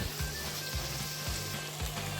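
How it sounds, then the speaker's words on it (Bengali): Chopped onions sizzle and fry in hot oil in a wok, a steady close crackle with a few soft stirring scrapes at regular intervals. "কুচানো পেঁয়াজগুলি কড়াইতে দিয়ে ভালো করে ভাজতে থাকুন"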